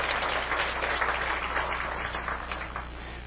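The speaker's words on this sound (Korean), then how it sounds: "우리 다 같이 환영하는 마음으로 박수로 맞이해 주시면 감사하겠습니다" An audience at a church new-life festival applauds to welcome guests, a steady wash of many hands clapping at moderate distance, fading slightly toward the end.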